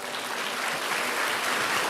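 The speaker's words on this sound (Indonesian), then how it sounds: "Kasih tepuk tangan untuk Tuhan." A church congregation claps together in a steady, dense round of applause filling the room, loud and unbroken for nearly two seconds.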